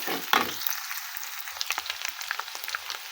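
An egg fries in a pan of leftover rice breakfast mix, with a sharp burst of sizzle at the start settling into a quieter crackle and light tapping, alone without speech.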